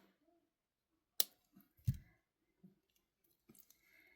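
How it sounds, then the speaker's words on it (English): Jewelry cutters snip off bracelet wire close up, one crisp click followed by a couple of softer snips and light handling taps against near silence. "And then we crimp this off, or cut it off."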